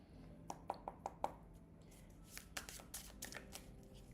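Tarot cards are shuffled by hand, a run of crisp paper flicks and slaps in quick succession and then looser riffling and tapping, close and quiet with no talk over it.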